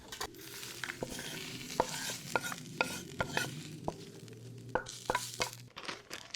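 Grouper scraps stirred in a pan with paprika, chilies and onions, a spoon scraping and tapping the metal in irregular strokes over a steady low sizzle, close and fairly quiet.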